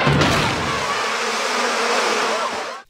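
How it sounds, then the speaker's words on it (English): A swarm of killer bees from The Simpsons buzzing steadily and loudly for nearly three seconds, a dense continuous drone that cuts off abruptly at the end. "Killer bees?"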